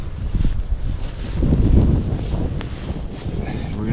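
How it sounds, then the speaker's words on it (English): Wind gusting outdoors in the rain while a fire is built from soaking wet wood, a steady low rumble with crackling buffeting against the microphone, rising around the middle. "I'm going to put this big piece right here to block some of that wind"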